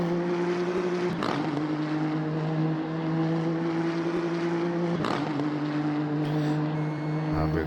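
Race car engine holding a steady high drone on a push lap in the Automobilista 2 sim, likely a Nissan, with two brief sharp bursts like gear shifts breaking the continuous tone, loud and unbroken throughout.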